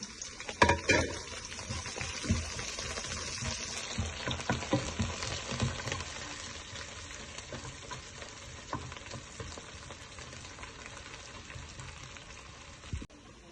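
Garlic and curry leaves fry in hot oil, starting with a loud crackling burst and stirring clatter, then settling into a steady, close sizzle.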